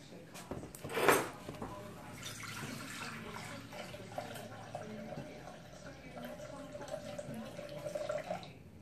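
Liquid for a chicken pie poured into bowls, a sharp splash at first, then a long steady trickle with a faint clink of containers.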